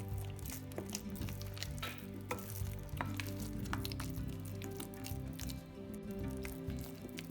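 Potato salad being stirred with yogurt and garlic in a bowl, giving a steady run of soft, wet squishing and smearing sounds close by, with light scraping clicks and no talking.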